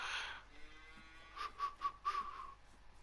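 Cows in Farming Simulator 19 low in a series of short, faint moos close together in the second half, after a brief burst of noise at the start, with no talk.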